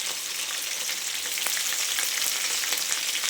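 Chopped green chillies fry in hot oil in a pan, giving a steady, close, even sizzle with faint crackles and no voices, while fish pulusu is being cooked.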